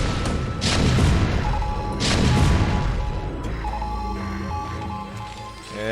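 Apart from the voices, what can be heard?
siege tanks firing and explosions in StarCraft II video game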